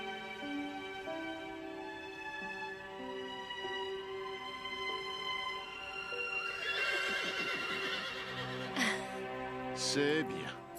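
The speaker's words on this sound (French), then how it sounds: "Il y a un cheval qui vient d'arriver au refuge." A horse at an animal refuge gives a long, loud whinny over a sustained musical backdrop, followed by snorts and a few hoof clip-clops close by.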